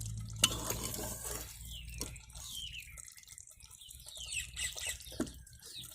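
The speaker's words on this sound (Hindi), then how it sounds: "लगातार चम्मच को चलाते रहेंगे और मटन जो है वो अच्छे से मसाले के अंदर फ्राई हो जाए" A spoon stirs and scrapes mutton frying in masala in a pan, giving scattered, close scraping and clinking strokes over a low, steady background sizzle, with no talk.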